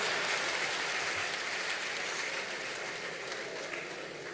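A conference audience applauding, a dense and steady wash of clapping from many hands that holds at an even level throughout.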